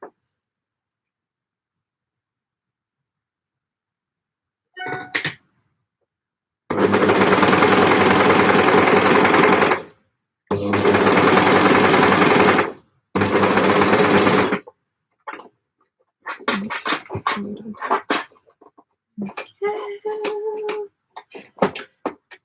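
A sewing machine stitches the bottom hem of a gable top in three loud, close bursts of rapid mechanical whirring, separated by pauses, followed by scattered quieter handling clicks and rustles.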